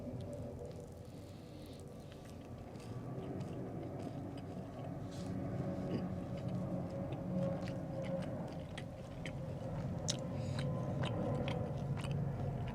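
Chewing and biting on a filled, onde-onde-like fried pastry with a paste filling, heard in Sydney. Soft, steady mastication runs close up over a low background hum for the whole stretch.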